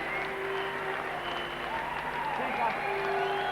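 Crowd applause at a 1995 West Indies versus Australia test cricket match as Steve Waugh reaches 150, a steady wash of distant clapping from the stands running throughout under a commentator's voice.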